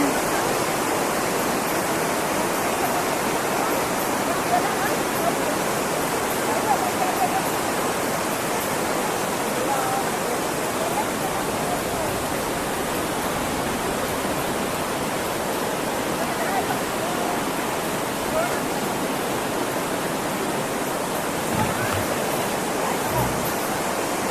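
The rocky Sungai Rayap river in North Aceh rushes over stones in a steady, dense broadband roar that stays constant throughout, with faint voices now and then beneath the water.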